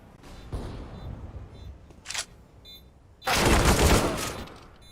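Gunfire in a Counter-Strike esports match between Team Spirit and Winstrike: an early burst, a brief sharp crack near the middle, then a loud sustained spray of shots, all close and punchy without talking.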